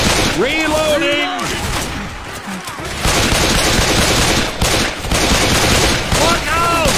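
Video game gunfire crackles in fast, dense bursts with booms mixed in, while players shout over it and a voice breaks in near the start and end.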